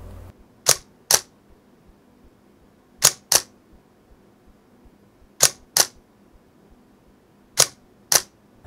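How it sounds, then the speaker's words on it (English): Camera shutter firing slowly, each exposure a distinct open-and-close double click, repeated four times with quiet pauses between pairs. "And here are some slower shutter speeds."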